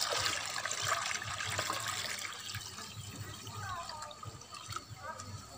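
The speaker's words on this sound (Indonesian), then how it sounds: "sekarang kita tinggal tambah air kelapanya sahabat ya" Coconut water is poured out, a wet trickling splash running through the whole moment while someone talks over it.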